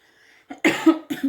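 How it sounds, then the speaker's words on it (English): A short fit of close, harsh coughing from heavy smoke, three or four rough bursts in quick succession with no talk. "So excuse me if I'm coughing, but the smoke is really bad"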